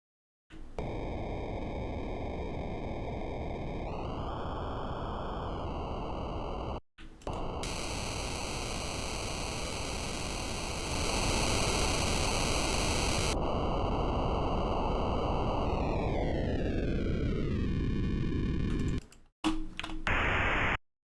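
Filtered stepped noise from a noise generator for glitch sound design: loud, dense hiss with buzzy tonal overtones that jump and slide in pitch, broken by abrupt cuts and a bright burst, running continuously without voices.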